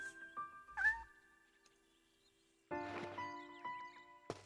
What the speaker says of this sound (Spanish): La gatita...